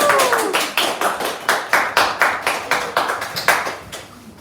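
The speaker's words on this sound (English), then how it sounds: "Please give yourselves a huge round of applause." Slow, evenly spaced claps at the Hertfordshire Care Awards 2020, about sixteen sharp, echoing beats from just a few hands in a reverberant room, loud and close, with no voices.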